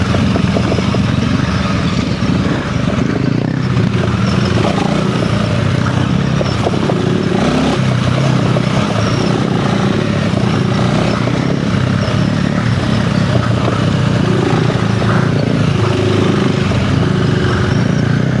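A Honda CRF300L motorcycle with a Stage 1 setup ridden off-road, its engine droning steadily and loudly throughout with a continuous low rumble and no talking.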